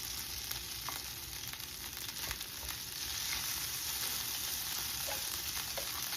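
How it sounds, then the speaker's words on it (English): Rice frying in butter in a pan gives a continuous, fairly loud hiss and crackle that swells slightly midway, with occasional faint scrapes and taps of stirring and no talking. "so we're gonna add a little bit of butter to our pan. And we're gonna add our rice."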